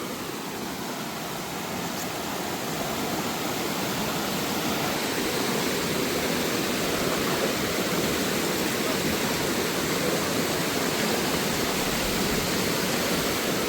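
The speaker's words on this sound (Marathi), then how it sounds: "आवाज पाण्याचा" River water rushes loudly and continuously in a steady, broadband roar at close range, with no other sounds standing out.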